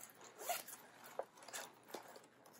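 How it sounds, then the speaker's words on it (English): A zipper on a small pink beach-themed pouch is worked open and closed in several short raspy pulls, close but faint, with no talking. "It even has a little zipper pocket on the inside."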